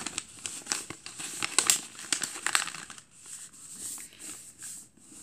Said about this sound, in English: You need to fold this flap down and the other flap on the other side down.